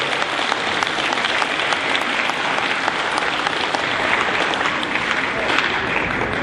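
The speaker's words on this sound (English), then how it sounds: "Let's give them a round of applause for their hard work." An audience applauds at an eighth grade celebration, a steady, dense clapping that fills the room and holds at an even level throughout.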